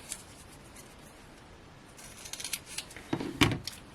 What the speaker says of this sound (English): Let's grab scissors.